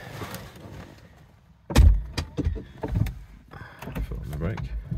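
Door of a Mercedes-Benz CL500 luxury coupe opening and closing as someone climbs in, a solid thud followed by several clicks and rustles nearby, with a brief voice in the background.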